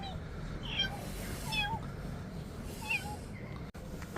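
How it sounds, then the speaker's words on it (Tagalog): A cat in Dubrovnik's old town gives a few short, faint meows amid quiet street ambience, with brief chirps scattered across a few seconds. "So, pangalawang pusa na naman tong nakita ko."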